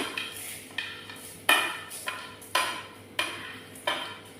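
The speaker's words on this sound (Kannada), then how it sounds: "ಸ್ವಲ್ಪ ಫ್ರೈ ಆದರೆ ಸಾಕು ಮತ್ತೆ ಇದರೊಟ್ಟಿಗೆಲ್ಲ ಒಟ್ಟಿಗೆ ಫ್ರೈ ಆಗ್ತದೆ ಈಗ ಕೊತ್ತಂಬರಿ ಹಾಕ್ತೇನೆ" Coriander seeds stirred in a hot pan while frying, with about seven sharp scraping strokes at a steady rhythm, each followed by a short fading sizzle, close and clear.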